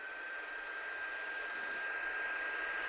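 A hair dryer blows steadily to dry watercolour paint on a handmade card, giving a continuous even whoosh with a faint high whine, close up and unbroken for the whole stretch.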